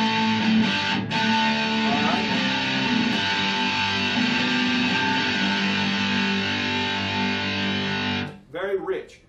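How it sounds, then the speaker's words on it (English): Electric guitar played through an EGO TM2 custom preamp pedal dialed to a JCM800 tone, a sustained distorted chord ringing loud and steady for about eight seconds before a brief pause and a short quieter strum. "This is the sound of a jcm800."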